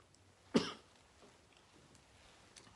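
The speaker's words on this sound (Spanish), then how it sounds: "me dio tos" One sharp cough, fairly close, against a quiet room background with faint rustling afterward.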